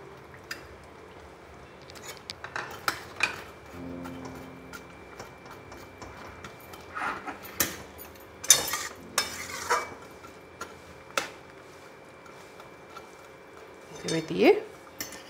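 Fried mung dal fritters are set one by one into a pan of poppy seed curry, giving soft clinks and taps of utensil against cookware with gentle stirring and quiet bubbling, sparse and close amid kitchen stillness.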